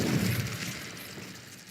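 A fire spell cast in the video game Hogwarts Legacy, a brief whooshing burst with crackling noise that fades over under two seconds.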